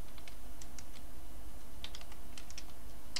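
Typing on a computer keyboard during a JavaScript coding session: light, scattered key clicks in quick irregular bursts, faint and close, with no voices over them.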